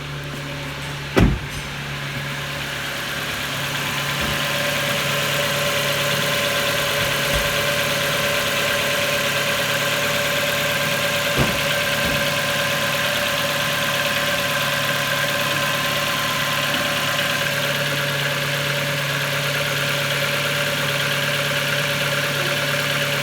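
A 2007 Ford Focus 1.6 engine idles steadily after oil filter and cambelt work, a close, even mechanical hum with faint ticking and a couple of sharp clicks near the start.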